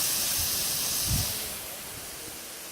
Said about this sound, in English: We got some taco cooking.